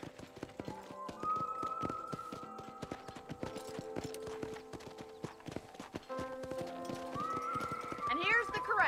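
Horses in the video game Red Dead Redemption clop at a ranch corral, with steady hoofbeats, a long whinny, and a sharper neigh near the end, under game music.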